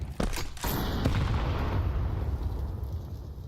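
P250 pistol shots ring out in a Counter-Strike professional match, with two or three sharp cracks close together at the start. A rumbling, booming game ambience fills the rest of the clip.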